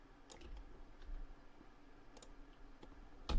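Scattered soft mouse clicks, a few quick taps spaced irregularly, ending with a louder click, close and quiet with no talking.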